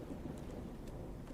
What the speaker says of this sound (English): It's still raining and thunderstorm like 8 hours later, and it's still doing the same thing.